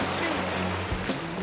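A valley stream runs rough and fast after overnight rain, a steady broadband rush of churning water, loud and close, with a couple of brief splashing surges.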